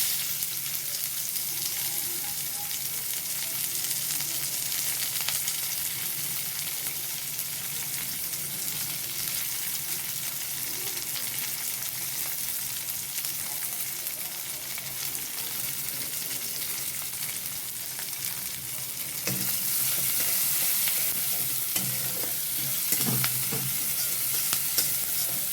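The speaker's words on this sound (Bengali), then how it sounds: "পেঁয়াজগুলোকে ভালো করে ভাজতে থাকবো যাতে তাড়াতাড়ি ভাজা হয়ে যায়" Chopped onions fry and are stirred in hot oil with nigella seeds, a steady close sizzle with scraping spatula strokes that grow busier near the end; no one speaks.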